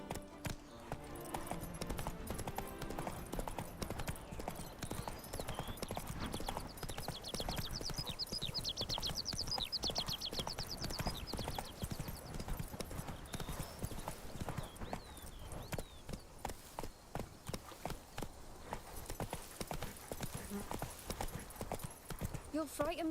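Roach the horse galloping in Witcher 3, a rapid, steady clip-clop of hooves that runs the whole stretch, with a brief whinny and a voice speaking over the hoofbeats now and then.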